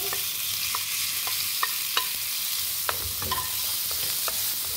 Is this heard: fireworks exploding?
no